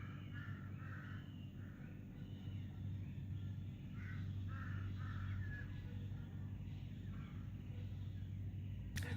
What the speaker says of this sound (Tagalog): Ang lapit lang nung uwak.